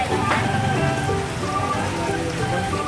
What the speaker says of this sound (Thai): ก็ฝนตกค่ะ